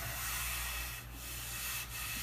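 Glued-up maple butcher block pieces running through a drum sander, giving a loud, continuous abrasive rushing hiss that dips briefly twice.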